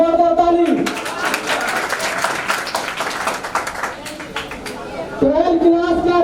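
A crowd claps for a student receiving a prize at a results day ceremony. The applause is a dense spatter of hand claps, with a voice speaking over a loudspeaker before and after it.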